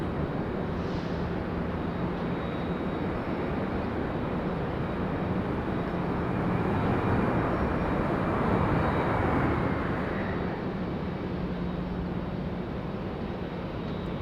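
A passenger airliner arriving from Orlando touches down at Raleigh-Durham International Airport, heard as a steady, distant broadband roar that holds for about fourteen seconds and swells slightly midway, with no voices.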